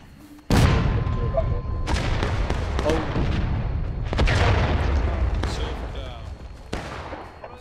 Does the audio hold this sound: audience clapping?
no